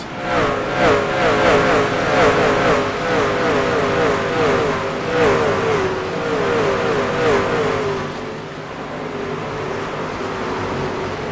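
Field of race trucks on the North Wilkesboro Speedway roaring past one after another, engines rising and fading in repeated revving sweeps, loud and close, then thinning toward the end.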